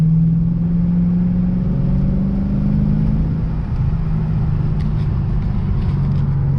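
A Lexus RC F's V8 engine drones steadily while cruising a twisty road, a loud, close, continuous low rumble with a sustained tonal hum that dips slightly partway through.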